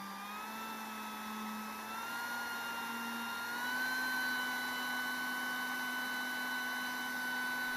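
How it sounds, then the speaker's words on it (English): BAK RiOn hot air welding tool with its blower motor running, a steady high whine with droning tones that shift slightly in pitch partway through, close and continuous with no voices. "We push the main switch and the motor starts running."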